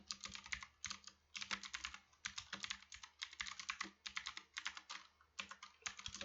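Fingers typing code on a computer keyboard, rapid bursts of crisp key clicks in uneven runs with short pauses between, close and clear with no talking.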